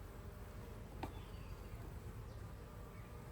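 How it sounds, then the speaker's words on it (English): Honey bees buzz inside an open hive during an inspection, a faint, steady swarm drone with no one talking. "There's bees in the center here."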